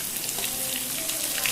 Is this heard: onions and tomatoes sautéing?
yes